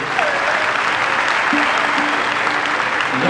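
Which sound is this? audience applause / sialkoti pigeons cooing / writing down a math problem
audience applause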